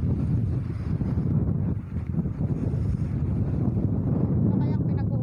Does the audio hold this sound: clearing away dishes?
no